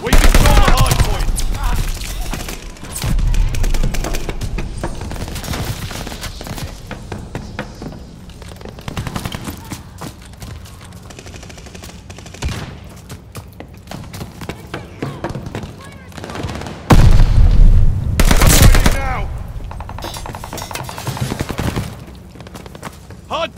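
Automatic and rapid gunfire bursts in Call of Duty: Vanguard multiplayer Hardpoint mode, loud and dense, with heavier blasts near the start and around the seventeen-second mark, mixed with in-game announcer voices.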